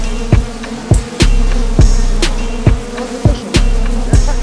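Bees swarm around a beehive and a protective net, buzzing loudly and close with sharp, repeated taps as they bounce off the net in an uneven rhythm.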